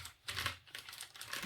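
Squeegee rubbed over sticky rhinestone transfer paper, giving quiet crinkly scraping strokes in a few bursts, close and soft, with no talking.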